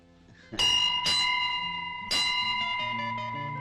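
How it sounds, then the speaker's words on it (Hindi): A temple bell is struck three times, each strike a bright ringing clang that lingers and decays before the next, loud and close with no talk. "जो कोई इस मंदिर की घंटी 3 बार बजाता है उसकी शादी जल्दी हो जाती है"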